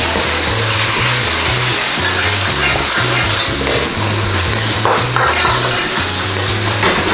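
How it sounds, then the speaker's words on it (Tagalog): Young corn is stirred in a hot frying pan: loud, continuous sizzling with repeated scraping and clinking of the utensil against the pan, close up, with no talking. "stir lang po natin siya ng additional 1 minute"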